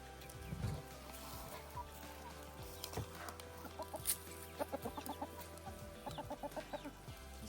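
Backyard farmstead hens cluck in soft, repeated bursts, with a busy run of quick clucks toward the end, fairly close against a quiet outdoor background.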